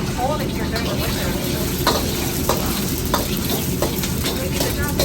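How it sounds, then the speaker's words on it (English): Oil and eggs hiss and crackle in a flaming restaurant wok while drunken noodles are cooked, a loud continuous sizzle punctuated by sharp scraping strokes of a spatula. "Adding in some oil and some eggs."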